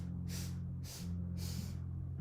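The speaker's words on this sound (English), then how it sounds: "I'm going to kind of be really exaggerated with my inhaling and exhaling" Three exaggerated, drawn-out inhaling breaths, each rushing in loudly for about half a second with short pauses between, over a steady low hum.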